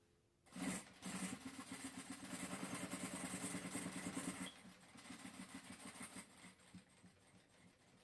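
A sewing machine stitches strips of fabric scraps into a large tote bag and then reverses for a backstitch, giving a fast, even motor whir with a change in rhythm partway through, close and fairly quiet.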